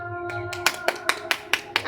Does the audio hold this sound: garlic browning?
no